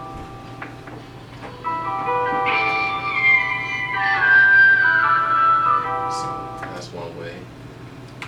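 A sped-up, pitch-shifted beat sample plays a bright, chime-like melody that swells through the middle and then fades, with someone speaking briefly before and after it.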